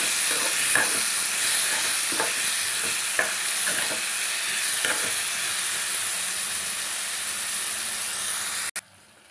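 Chopped tomatoes with salt sizzle steadily in a hot pan for birakaya pachadi, a close, continuous fry with faint intermittent stirring clicks, ending abruptly.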